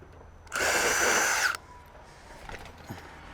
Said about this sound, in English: Now I'll just remove that rivet again.